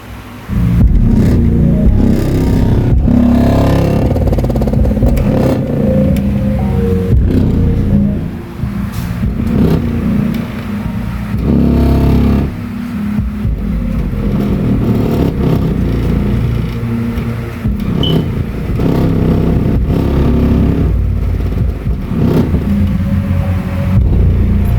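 A metal object and an amplifier rattle against a wall, shaken by heavy subwoofer bass, giving a loud, continuous low rumble with buzzing vibration throughout.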